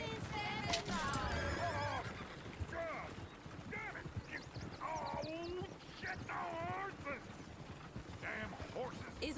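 Horses whinny and neigh repeatedly in shrill bursts, with hooves clopping and shuffling nearby throughout.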